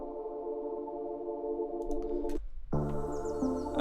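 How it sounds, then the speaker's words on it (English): A sustained synth pad in a drum and bass track made in FL Studio 21 holds steady layered tones, briefly drops out, then swells back in fuller and brighter with a faint high shimmer on top. "Another pad sounds like this."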